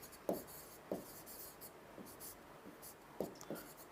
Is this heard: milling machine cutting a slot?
no